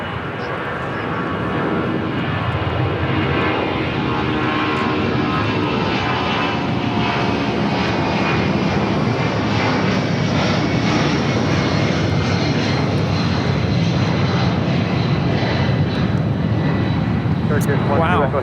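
A jet airliner takes off at LAX, its engines producing a loud, sustained roar that stays strong and steady throughout as it climbs out, with people talking over it.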